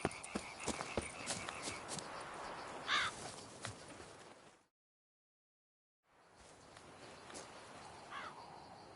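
Birds caw in a Witcher 3 game scene against a dense outdoor ambience, harsh calls repeating in the first half. A brief silent gap follows before the background and a few more calls return.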